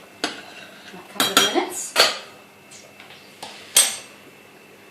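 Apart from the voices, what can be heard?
stirring gluten-free pasta in a pot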